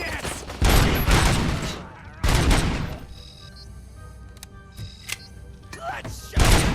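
Gunfire in RoboCop: Rogue City, with loud bursts of automatic fire in three separate volleys between quieter stretches of clicks and thuds, heard alone without talk.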